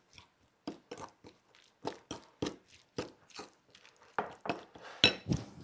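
A utensil scrapes and taps against a bowl while mayonnaise and cheese stuffing is mixed, making a quick, irregular run of close, crisp clinks and scrapes against a quiet background.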